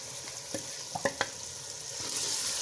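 Spices stirred into browned chicken frying in a pot, a soft continuous sizzle broken by a few quick knocks and scrapes of a spoon, faint and close.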